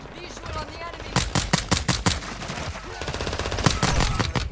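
Suppressed automatic gunfire in the shooter Warzone 2.0, several rapid bursts of muffled shots in a tight rhythm, close and loud, with someone talking between and over the firing.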